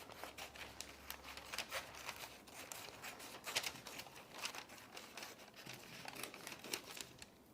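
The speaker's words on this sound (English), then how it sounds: "using paper scissors." Paper scissors cut through fabric for a quilted mermaid tail pattern: a steady run of crisp, close snips and crinkly rustling, fairly quiet, with no talking.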